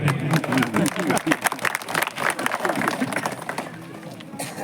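Applause at a political gathering in Chhatarpur for a road sanctioning event, steady rapid clapping from a crowd under a talking voice and murmur, tapering off toward the end.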